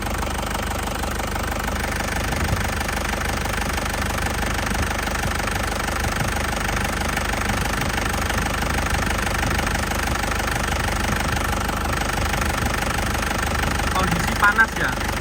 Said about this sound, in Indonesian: Mesin memang benar-benar sehat ya, benar-benar sehat, tidak goyang ya, tidak goyang sama sekali.